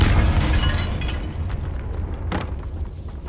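A spell explosion in Hogwarts Legacy, cast in a tomb: a loud booming blast that rumbles and fades, with a sharper burst partway through.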